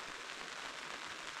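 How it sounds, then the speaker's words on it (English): Heavy rain pours steadily over a wilderness campsite, a dense, even hiss of drops with no pauses, fairly faint and uninterrupted, with no one talking. "It's pouring rain out."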